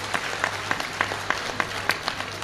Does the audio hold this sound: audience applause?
yes